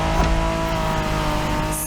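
A Honda NSX sports car built in the 1990s, driven in a racing video game, gives a steady loud engine drone with sustained revving tones, close and continuous throughout with no talk over it.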